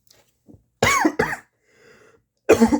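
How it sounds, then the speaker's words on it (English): Three harsh coughs, two close together and a third after a short pause, loud and near against an otherwise quiet background. "Ah, damn, I got a cough."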